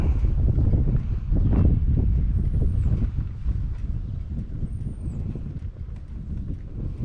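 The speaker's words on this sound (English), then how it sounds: "Just something about those flags and the wind." Wind blows across flags at a World War II memorial in a veterans cemetery, a steady outdoor rush with low buffeting gusts against the microphone, strongest early and easing slightly later.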